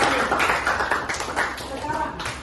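An audience claps in applause after a classroom presentation, a dense spread of hand claps that fades slightly over a couple of seconds while a voice speaks over it.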